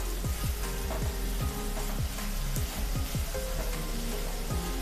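Jaggery melting into grated coconut in a pan over low-to-medium heat for modak filling, a constant hissing sizzle under a low hum, with rhythmic stirring scrapes roughly twice a second, no talking.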